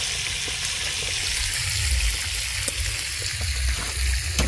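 Fish frying and sizzling in oil at a night camping spot, a constant crackling hiss with scattered sharp pops, close and steady throughout with no talking.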